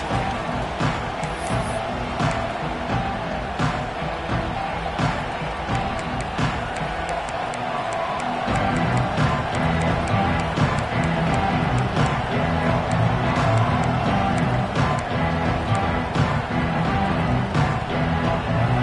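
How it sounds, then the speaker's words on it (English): A college football stadium crowd at an LSU game roars steadily and loudly through the kickoff, a broad sustained wash of cheering that swells in the second half. "This crowd ready to make its presence known."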